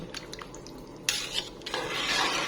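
Metal utensil scraping and clinking against a pot of shredded pork being stirred for pork floss, with moist stirring sounds, getting louder and busier in the second half, no voices.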